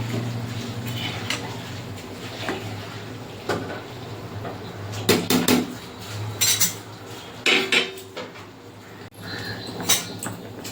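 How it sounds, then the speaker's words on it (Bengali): Starchy water pours out of a pot of cooked rice. The lid and the pot clatter and scrape in several sharp knocks against a low background hum. "আমি ভাতের মাড় গেলে ফেলবো।"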